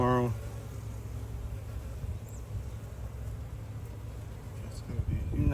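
Honeybees buzz in a low continuous drone as a beehive is opened for inspection, steady and moderately close, with brief talk near the start and end.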